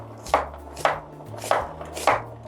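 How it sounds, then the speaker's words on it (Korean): A knife julienne-slices half an onion on a cutting board while cucumber kimchi is being prepared, producing four crisp, evenly spaced chopping thuds close up. "양파는 한 반 개만 채 썰어주면 되거든요"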